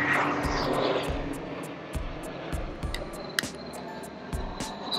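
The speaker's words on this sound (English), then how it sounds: "look at this government plane going by" A government plane flies by overhead outdoors, a low droning engine rumble sustained and fairly distant, with rhythmic thumping noises nearby.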